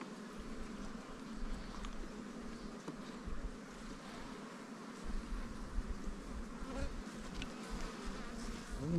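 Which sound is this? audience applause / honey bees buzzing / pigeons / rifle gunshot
honey bees buzzing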